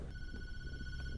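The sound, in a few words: telephone ringing in a video game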